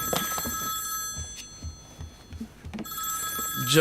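A telephone bell rings in two bursts, one at the start and one near the end, with a quieter gap of rustling and low sounds between.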